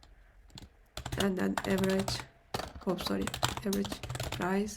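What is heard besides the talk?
typing on a noisy computer keyboard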